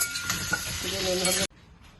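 Whole garam masala spices sizzle in hot oil while being stirred, a bright crackling fry that runs for about a second and a half and then cuts off abruptly.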